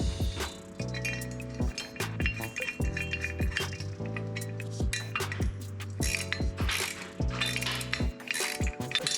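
Metal washer and nut clink and rattle as they go onto a tire carrier on a 5th Gen 4Runner, with repeated sharp close-up chinks and tinny metallic jingles in an irregular rhythm.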